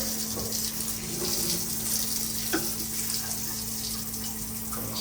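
Coolant spraying chips inside an MR1 milling machine, a steady rushing gush of liquid like a running tap over a constant motor hum.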